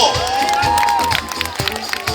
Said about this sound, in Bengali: সবাই মিলে একটু জোরে হাততালি নিজেদের জন্য